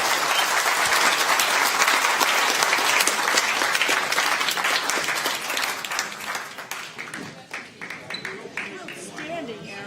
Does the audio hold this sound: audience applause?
yes